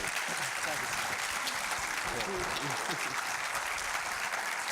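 An audience at a school district listen-and-learn community meeting at Whites Creek High School gives steady, continuous applause, with voices murmuring beneath the clapping throughout.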